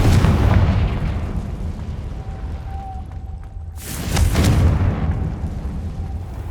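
A Confringo fire spell detonates in Hogwarts Legacy, producing two broad, loud booming blasts with rumbling tails, the second burst near the end of the span.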